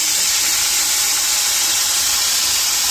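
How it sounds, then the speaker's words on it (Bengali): A ground paste of tomato, chilli and melon seed goes into a hot wok and sizzles with a steady, loud, bright hiss that holds evenly for about three seconds, with no voices. "যে লঙ্কাটাকে আর চারমগজটাকে বেটেছিলাম ওইটা এখন এই এরকম কড়াইয়ের মধ্যে দিয়ে দেওয়া হচ্ছে"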